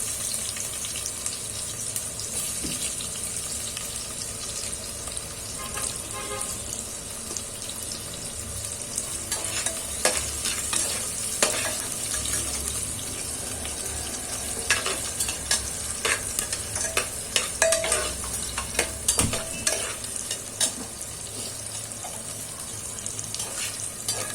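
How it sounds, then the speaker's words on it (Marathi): Chopped onion and cumin seeds sizzle and fry in hot oil in a pressure cooker, stirred with steady scraping and crackling, loud and close with no voices. "हा कांदा आपल्याला छान लालसर करून घ्यायचा आहे।"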